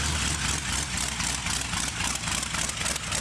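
A rat rod fitted with motorcycle baffles idles nearby, a loud, rough low rumble with a fast uneven pulsing beat, continuous and without talk.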